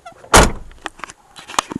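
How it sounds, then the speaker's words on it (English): A house door shuts with one loud, close thud, followed by a few softer knocks and clicks as it settles. "I'm just going to close the door."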